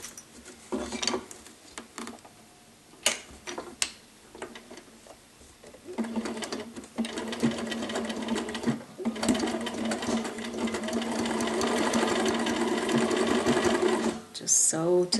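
A sewing machine stitches a zipper to a flap, running in short bursts at first and then steadily to the end of the seam, close and clear, with occasional quiet handling noises.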